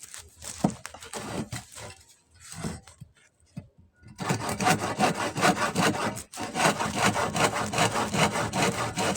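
A hand saw cuts wood for a doormat frame, starting with a few scattered strokes, then settling into fast, loud, rhythmic back-and-forth rasping strokes close by.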